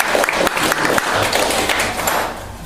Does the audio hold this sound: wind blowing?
no